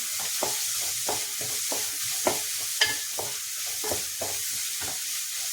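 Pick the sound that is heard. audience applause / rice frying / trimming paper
rice frying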